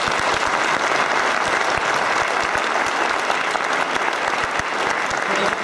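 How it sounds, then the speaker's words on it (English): A packed convention hall at PAX East 2013 claps for a game panel, a loud, dense and unbroken round of applause with many hands sounding together right up close, lasting the whole stretch. "Would you do me a favor and give these guys a round of applause?"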